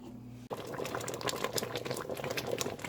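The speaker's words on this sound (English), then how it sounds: "This has been boiling for probably close to 8 minutes, causing a heck of a splatter mess, even in this deep pot." Jam bubbling hard at a rolling boil in a deep pot on the stove, a dense, steady crackle of popping and spattering that starts abruptly after a brief low hum and continues close and loud with no talk.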